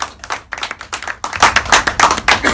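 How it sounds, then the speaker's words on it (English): Conference audience claps to welcome a keynote speaker at a research meeting in Singapore, starting as scattered separate claps and quickly building into fuller, louder rhythmic applause from many hands. "A round of applause."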